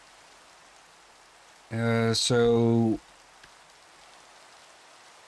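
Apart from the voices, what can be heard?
rain falling in a video game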